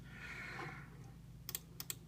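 A few quick, crisp key clicks from a PC computer keyboard in a custom arcade cabinet setup, close and brief, following a quiet stretch of low hum.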